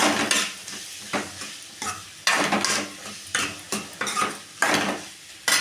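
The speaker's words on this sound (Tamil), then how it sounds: "குடமிளகாய் இதையும் நல்லா கிண்டிக்கலாம்." Capsicum being stirred in a frying pan for egg fried rice, with repeated scraping strokes of a spatula against the pan in an irregular rhythm over a light sizzle, close and fairly loud, no talking.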